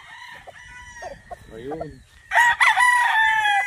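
Chickens and a rooster on a farm in Angayan Sur, Balungao, Pangasinan: clucking and a loud, close crow near the end, with a brief spoken word in the middle.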